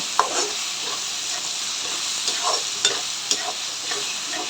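Tomatoes sauté in a pan for a fish curry, giving a steady sizzle broken by several sharp scrapes of a stirring spoon against the pan.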